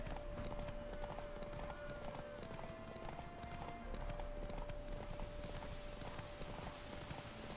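Steady hoofbeats of a horse galloping and cantering during a race in The Witcher 3 video game, a continuous rhythmic clip-clop under constant background noise with a faint tone running throughout.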